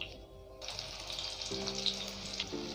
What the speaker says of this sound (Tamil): வெங்காயத்தை நல்லா ஃப்ரை பண்ணிக்கோங்க.